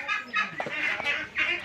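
Pekin ducks at a duck farm during plague vaccination, a few close quacking calls in short bursts over a quiet background.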